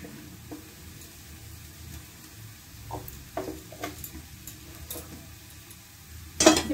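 Taro root bharta being stirred in a pan, a low sizzle under sporadic scraping and clinking of the spoon, with a sharper clatter near the end; no one speaks.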